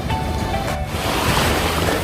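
Mediterranean Sea waves wash continuously against a beach on Crete in a broad, steady roar, mixed with wind buffeting the microphone and no voices.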